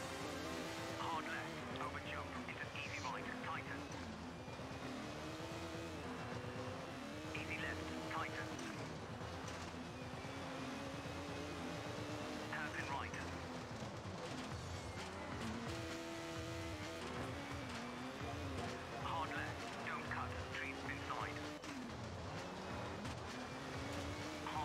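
A rally car racing on a Safari stage of sand and concrete in the Rally Sport Challenge video game, its engine revving up and down repeatedly through gear changes, continuous and loud under someone talking.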